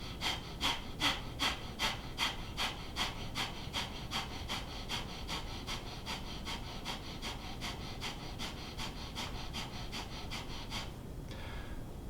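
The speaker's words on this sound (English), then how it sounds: "It's a rapid inhale and exhale of the belly." Breath of fire, rapid forceful belly breathing: about twenty quick, evenly spaced puffs of air through the nose, close and crisp, stopping abruptly near the end with quiet afterward.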